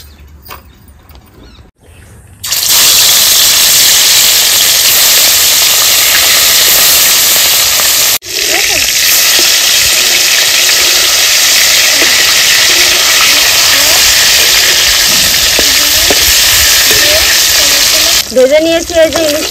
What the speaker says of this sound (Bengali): প্রথমে আমি এই যে কিছুটা ইলিশ মাছ ভেজে নেব